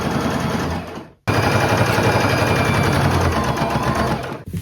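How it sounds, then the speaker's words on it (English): A sewing machine runs fast and loud while stitching up a patchwork maxi skirt seam, a dense rapid chatter that cuts out briefly near the start, then resumes continuously. "I'm just going to sew all the way up to the top of this."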